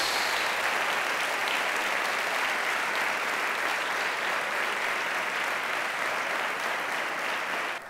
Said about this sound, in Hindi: जोरदार तालियां इस बर्रे के लिए